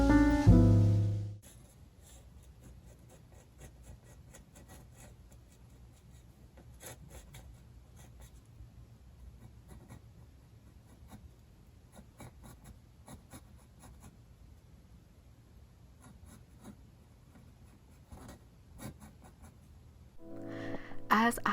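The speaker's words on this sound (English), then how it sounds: "here's me just sketching out what I see from my reference photo" Pencil sketching a koi fish on a clay palette, soft scratchy strokes rubbing close up in quiet bursts, with brief talking at the start and end.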